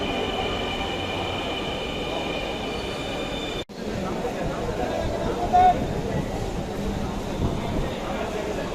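A crowded metro rail train running with passengers, a steady loud rumble of wheels and car noise with a sharp momentary dropout and a brief high squeal, under passenger talk.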